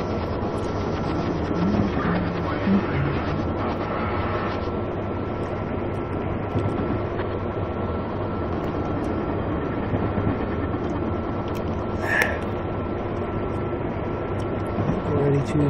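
A train rolls steadily along the track in the Railworks simulator, with a loud continuous rumble and clatter throughout and a brief higher tone partway through.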